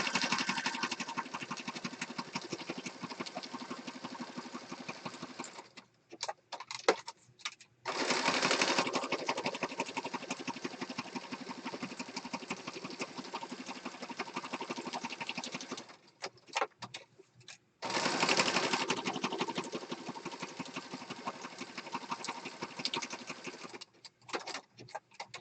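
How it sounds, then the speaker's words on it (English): Sewing machine running in long continuous bursts, a fast steady whir and patter while stitching around an outside edge, broken by a couple of short pauses. "I'm just going to stitch all the way around the outside edge."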